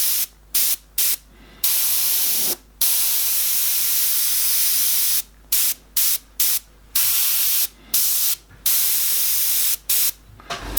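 An airbrush sprays a fine mist of paint for a landscape painting, a loud steady hiss in repeated bursts of varied length broken by brief silent pauses, with no talking.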